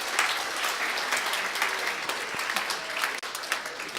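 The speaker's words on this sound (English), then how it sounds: "Let's have a big round of applause for all the moms and all the wisdom." An audience breaks into sustained applause honoring mothers, a dense, steady wash of many hands clapping at close range that runs the whole time without a break.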